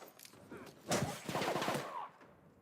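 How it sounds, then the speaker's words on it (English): Rapid gunfire from a pistol in the game The Outer Worlds, with a quick burst of several shots over a moderate background. "You ever just shoot a dude with a pistol?"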